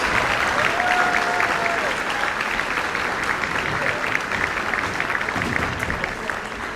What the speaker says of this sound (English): Another round of applause for all of our performers tonight